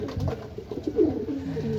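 Pigeons coo close by at a bird training loft in Tarlac City, soft low repeated calls overlapping in a short burst.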